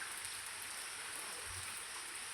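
Rain falling steadily, a continuous soft hiss with a faint low rumble underneath, no talk.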